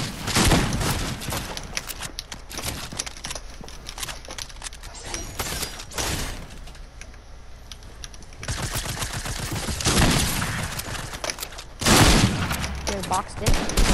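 Gunfire in the video game Fortnite, dense rapid volleys of shots with cracks and booms, loud and close, pausing briefly mid-way before resuming in heavy bursts, with players talking over it.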